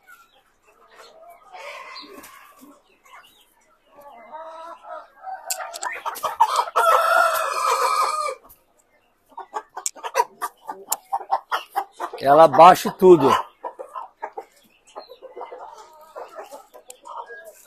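Hens in farm pens cluck in short bursts while a rooster lets out one loud crow near the end, with people talking nearby between the calls.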